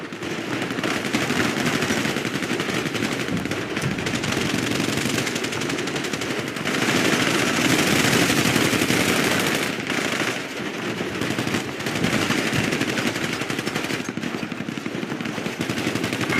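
Dense, sustained gunfire in a GTA Grand RP weapon-store robbery shootout, rapid machine-gun bursts nearly continuous with brief lulls, loud and close, no talk.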